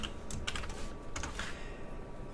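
Quick bursts of keystrokes on a computer keyboard, close and clear, with short pauses between clusters of clicky taps over a low background hum.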